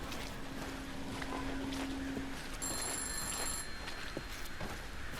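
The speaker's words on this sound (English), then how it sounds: "The phone's ringing!" A telephone rings in a horror video game set around a broken-down car, a thin electronic trill cutting through a windy, rumbling outdoor ambience, heard briefly at moderate loudness without talk.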